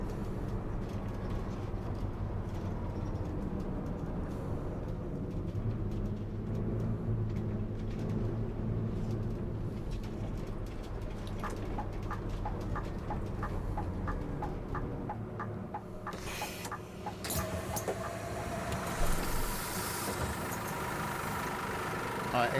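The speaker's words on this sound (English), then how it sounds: "So engine noise, a lot different with the non-bendy version." A standard non-bendy city bus engine in the driving game The Bus rumbles low and steady at idle and low speed throughout, with a voice talking over it at times.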